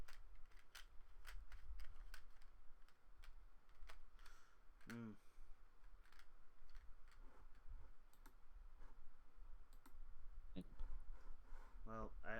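Rapid clicking of keys on a computer keyboard, a quiet run of fast, irregular taps across the whole stretch with no talking over it.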